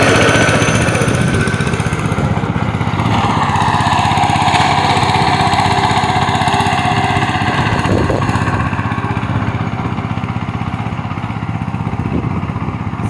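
Tractor fitted with cage wheels puddling a wet field for a turmeric crop, a loud, steady diesel engine drone running continuously with slight rumbling variation, no voices.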